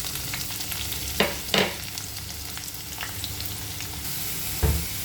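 Chopped onion frying in a pan with garlic for a Marathi urad dal ghuta, stirred with a spoon: a steady close sizzle broken by a few sharp scraping strokes.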